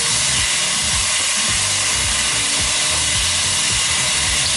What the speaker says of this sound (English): just a little bit of white wine in here, kind of deglaze the pan a little bit